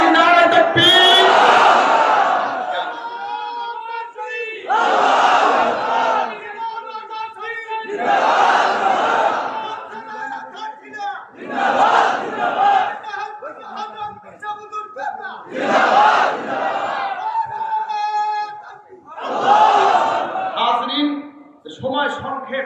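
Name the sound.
crowd chanting takbir in response to Naraye Takbir call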